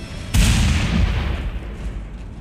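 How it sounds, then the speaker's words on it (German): A huge explosion in the post-apocalyptic video game Mad Max: a sudden loud boom that rolls into a long rumbling roar and slowly fades, heard alone. "Hier eine Mega-Explosion verursacht."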